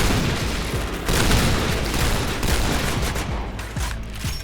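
Cheytac M200 sniper rifle fire in the shooter game Point Blank, loud gunshot blasts amid dense continuous battle noise and booms, several sharp reports spread across the stretch.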